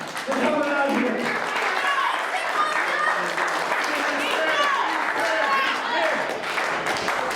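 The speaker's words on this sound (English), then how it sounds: "I want to hear you people give yourselves a round of applause for coming out here." Wrestling show crowd gives itself a round of applause, sustained clapping and cheering running the whole stretch, with voices talking over it.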